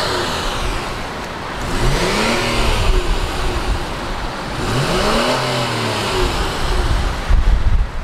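A 2019 Honda Pilot touring engine starts and idles, then revs twice in rising, falling sweeps over a steady rumble, close and fairly loud with no talk.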